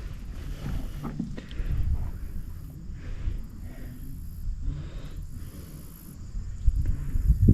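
An old tractor engine idles steadily outdoors, smoking as it fires, its low rumble mixed with wind buffeting the microphone.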